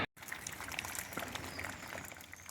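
Steady rushing water from a waterfall or hillside stream on a rainy mountain path up Fløyen, a broad continuous wash that starts abruptly and holds at moderate level throughout, with no voices.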